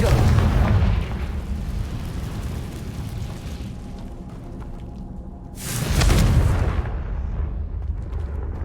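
Booming Confringo spell blasts in the Hogwarts Legacy video game: one explosion at the start, a rumbling tail, then a second loud burst midway, heard close.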